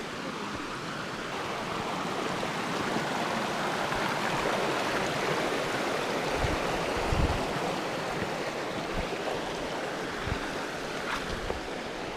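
North Tarryall Creek, a mountain stream in Summit County, Colorado, rushing in a steady broadband wash that stays even and close, with a few low bumps of wind on the microphone.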